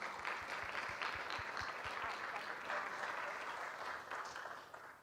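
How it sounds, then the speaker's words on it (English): An audience at a spring piano recital applauds the student performers, with steady, dense clapping that fills the room throughout. "So let's give them one more round of applause."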